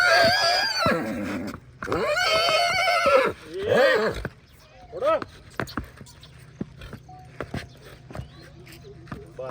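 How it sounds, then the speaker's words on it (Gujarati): A horse gives two loud, close whinnies one after another, followed by a shorter snort-like call, then scattered hoof knocks and small clatter as someone speaks briefly nearby. "બસ એ ઘોડો"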